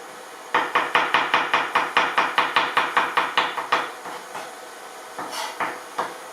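Knife chopping fresh garlic into small slices on a cutting board, a rapid run of about fourteen crisp, evenly spaced taps close up, then a pause and a few slower, softer cuts.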